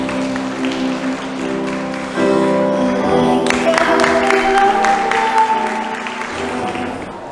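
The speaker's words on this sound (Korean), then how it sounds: "다시 한번 큰 박수 부탁드립니다." Wedding guests break into steady applause at a ceremony, a full room clapping loudly and continuously for several seconds, swelling midway with a faint crowd murmur beneath.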